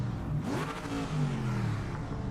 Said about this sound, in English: And that's just free revving it.